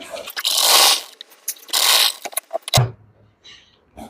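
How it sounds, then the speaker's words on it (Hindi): Domestic sewing machine stitching a princess-cut blouse lining, running in two sustained mechanical bursts followed by short clicks and a thump as the fabric is repositioned, close and fairly loud. "तो यहाँ पर पहले 1/2 इंच जितना हमें सिलाई लगा लेना है।"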